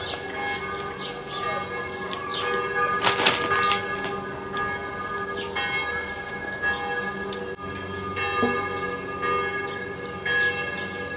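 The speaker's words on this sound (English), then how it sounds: "Bloody bells." Church bells ring on and on, a layered wash of sustained tones with a few brighter clangs standing out, heard without any talking.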